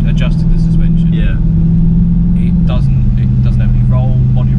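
An ABT-tuned Audi Q7 with a twin-turbo V8 diesel drives fast, its steady low engine drone heard from inside the cabin while people talk over it throughout.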